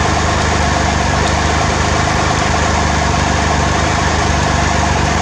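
A steady, rumbling engine idles continuously at close range, with a constant low throb and no voices.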